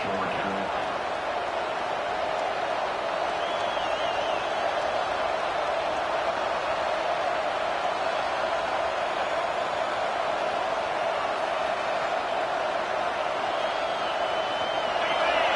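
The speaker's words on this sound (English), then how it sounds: "Listen to the crowd energy here in the early going." A steady roar of a large crowd at a football game fills the stadium, constant and distant-sounding, with no clear individual voices standing out.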